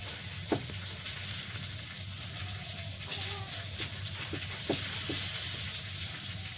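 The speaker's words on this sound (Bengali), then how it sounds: "বেগুন কিভাবে ভাজা হবে বেগুন কেটে ভাজা লম্বাই না গোল" Eggplant sizzles in a hot pan of oil, a steady soft hiss with occasional clicks and pops from stirring, quiet in the background while people talk nearby.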